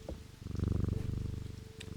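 Cat purring in a puzzle video game, a steady rhythmic rumbling purr that pulses continuously and fills the short stretch, fairly close and alone with no talk over it.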